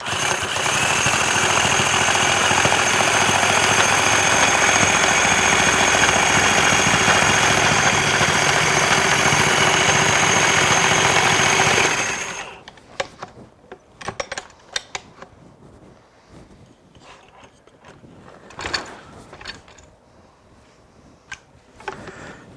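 Carpet binding sewing machine stitching wide binding onto a carpet edge, a loud continuous mechanical chatter for about twelve seconds, then stopping, followed by scattered handling knocks and rustles.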